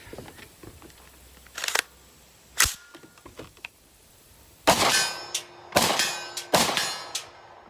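Several sharp, loud supersonic rifle shots from a 300 Blackout with an 8.5-inch barrel, through a CMMG Zeroed 30 suppressor, crack out at irregular intervals, with faint clicks and handling noise between them.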